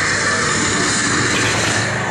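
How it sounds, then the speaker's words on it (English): Airplane sound effect of a plane approaching, a broad rushing engine roar that holds steady and loud for a couple of seconds with no voices over it. "You hear a plane approaching."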